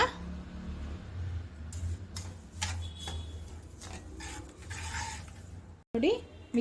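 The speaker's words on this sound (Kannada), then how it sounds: "ಸ್ಟವ್ ಫ್ಲೇಮ್ನ ಆನ್ ಮಾಡಿಕೊಂಡು ಇದನ್ನೆಲ್ಲ ಚೆನ್ನಾಗಿ ಒಂದು ಮಿಕ್ಸ್ ಮಾಡ್ತಾನೆ ಇರೋಣ" Besan, milk and sugar being stirred in a pan on the stove for coconut burfi, with soft repeated scraping and light tapping of a spoon against the pan, steady and close, with no talk.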